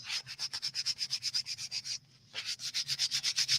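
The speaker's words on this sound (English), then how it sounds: "I'm going to scuff it up a little bit with sandpaper to give it a little more tooth." Sandpaper scuffing an old journal cover in quick, even back-and-forth strokes, a close raspy rhythm with a brief pause partway through before the strokes resume.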